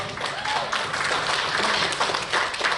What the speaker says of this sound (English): Give Mr. Mohabir a round of applause